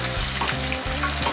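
Onions frying in a pan for a Georgian shkmeruli, a loud continuous close sizzle with a soft crackle running through, no talking.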